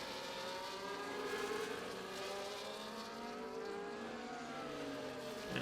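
Racing cars in a video game race stream past in a long chain, their engines whining and revving in overlapping rising and falling tones, a steady close roar with no gaps.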